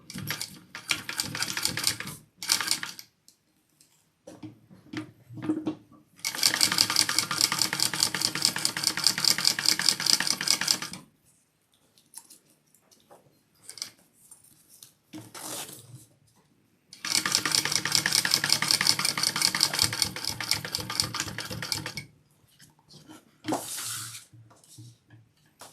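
Sewing machine top-stitching along a zipper on a wallet, running in two long steady bursts of rapid mechanical stitching, with shorter bursts, handling clatter and pauses in between.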